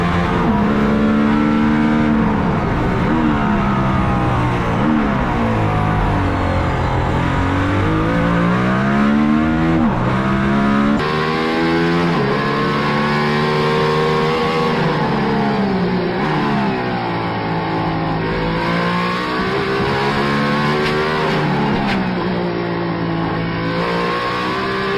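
A Mercedes-AMG One hypercar laps the Nürburgring on a damp, cold track, its engine loud and close, rising and falling through gear changes in a continuous onboard roar.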